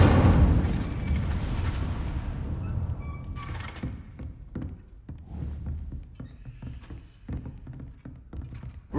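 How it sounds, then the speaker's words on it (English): Incendio fire spell cast in Hogwarts Legacy, a whooshing burst of flame that flares loudly and then fades into crackling, scattered thuds and small pops of things igniting, with no talk. "Incendio! Setting things ablaze is certainly cathartic, isn't it?"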